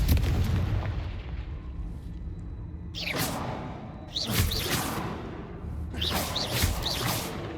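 Fiery Confringo blast spells from the Hogwarts Legacy video game, a booming explosion up front followed by three more whooshing fire bursts at roughly one-second intervals, loud and close with no talk.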